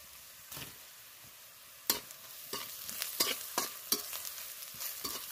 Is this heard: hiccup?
no